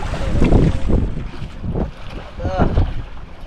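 Strong wind buffets a small fishing boat at sea, a rough roaring rush with gusting surges over the low rumble of water, loud and close throughout.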